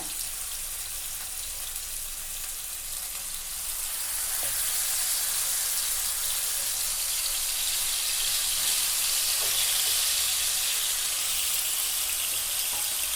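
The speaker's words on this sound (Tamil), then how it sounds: "மீன் வந்து 1 சைடு நல்லா ஃப்ரை ஆகட்டும்" Fish frying in oil in a pan on medium heat: a dense, steady hiss of sizzling that swells slightly partway through and stays even, close, with no talk.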